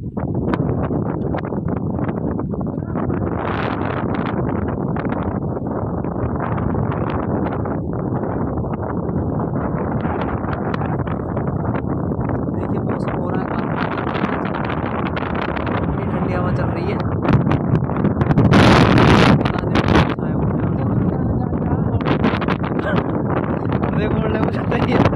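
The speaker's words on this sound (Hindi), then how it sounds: "हवा चल रही है काफी तेज" Strong wind blowing outdoors near a highway under construction in hilly country, a loud continuous roar buffeting the microphone for the whole stretch, with gusts swelling and fading and a harsher burst near the end.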